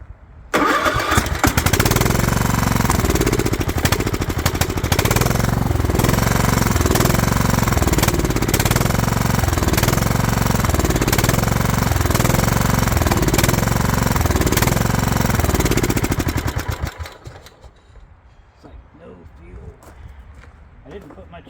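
Craftsman lawn tractor, once trampled by goats, cranks and starts, then runs with a loud, rapid, pulsing engine chug for about fifteen seconds before cutting out, leaving quiet background.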